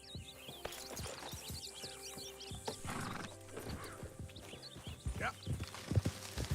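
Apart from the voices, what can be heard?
horse riding in Red Dead Redemption 2 video game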